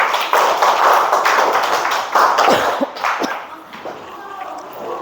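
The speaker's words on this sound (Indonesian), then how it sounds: "Tepuk tangan untuk kelompok 5." A class claps for a student group in a classroom, with a few seconds of fairly close clapping mixed with voices that fade into quieter room noise.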